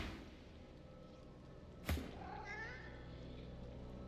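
An undead cat in the video game Divinity: Original Sin 2 lets out one short, strained meow after a sharp impact, set over a low ambient game soundscape.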